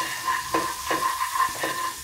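Butter sizzles in a sauce pan before whole wheat banana yogurt pancake batter goes in, a soft steady hiss broken by a few periodic scraping strokes, close and alone.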